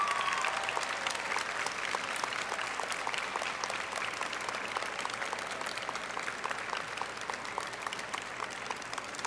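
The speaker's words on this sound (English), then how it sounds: "please, graduates, applause your parents, your spouses, your families" Sustained applause from a large commencement audience honoring graduates' parents, spouses and families at a West Virginia University College of Human Resources & Education ceremony, a dense steady clapping that fills the whole stretch at moderate distance.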